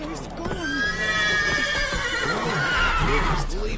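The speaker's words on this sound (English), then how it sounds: "That's it, Roach. Left ear's gone" A horse in The Witcher 3 video game neighs in a long, loud whinny with hoof clip-clops and game ambience, and a voice speaks over part of it.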